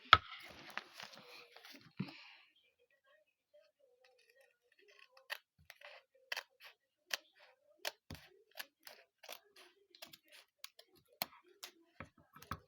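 Scissors snip through material while filling squishies, giving a series of sharp, isolated clicks at irregular intervals, close and quiet, after a brief stretch of rustling handling.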